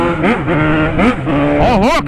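Yamaha XJ6 motorcycle engine revved hard outside a nightclub in several sharp, loud bursts that rise and fall, the last pulls the highest.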